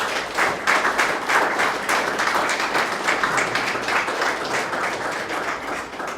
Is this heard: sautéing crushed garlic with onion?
no